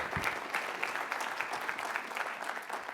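Audience applause in a lecture hall after a mention of Illinois Legal Aid Online, a steady patter of many hands clapping throughout at moderate, fairly distant volume.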